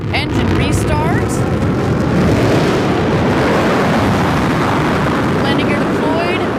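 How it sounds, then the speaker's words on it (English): Blue Origin New Shepard booster's BE-3 rocket engine restarting during descent on the NS-14 mission, a loud continuous roaring rumble with wind buffeting and faint voices briefly over it. "we're going to get the BE-3 engine to restart"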